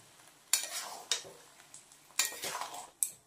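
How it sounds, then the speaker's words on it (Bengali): A utensil scrapes through food in a pan in four distinct, quiet strokes, each a brief rasping swish that fades before the next, with near silence between. "তো এইবার এটাকে আমি এখন ভালো করে নেড়ে চেড়ে নেব"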